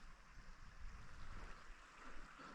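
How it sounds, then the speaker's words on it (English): Water of a small burn flowing over bits of rock, a steady, soft broadband rush that continues evenly throughout with no talking. "You can hear the water going over bits of rocks down there."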